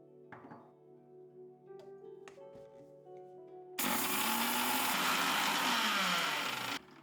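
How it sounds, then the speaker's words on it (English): A kitchen blender crushes mustard seeds into a coarse powder. A few knocks and thunks come first, then a loud, harsh grinding roar runs for about three seconds before it cuts off. "we're going to use our blender today"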